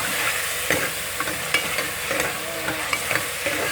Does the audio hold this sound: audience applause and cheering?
no